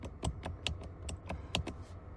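A rapid series of short electronic beeps, a Hyundai Avante CN7 side mirror setting confirmation chime, about eight quick pulses close together, fairly soft and steady, with no talking.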